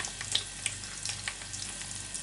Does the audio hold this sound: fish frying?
yes